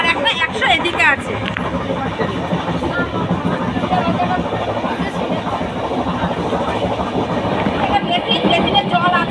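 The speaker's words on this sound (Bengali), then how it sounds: "ট্রেন একদম সঠিক টাইমে ছেড়ে দিয়েছে।" Dhauli Express passenger carriage in motion, a continuous rumbling rattle of the train with rhythmic clatter, under a babble of passengers talking nearby.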